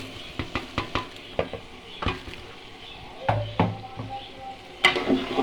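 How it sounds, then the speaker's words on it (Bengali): Rice stir-fried in a pot, a series of sharp scraping and clanking strokes of a spoon against metal over a faint sizzle, fairly quiet and irregular. "চালগুলো ভালো করে ভাজা ভাজা করে নেবো।"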